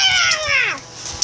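A person imitates a cat, drawing out a single close, clear meow that slides downward in pitch and fades in just over a second.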